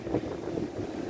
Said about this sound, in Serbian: ali uživo je ovo fantazija šta voda radi. Putuje svaki talas.